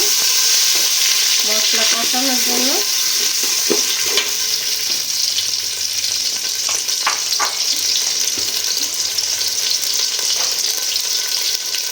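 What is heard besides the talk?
water poured onto fried onions, sizzling in the pan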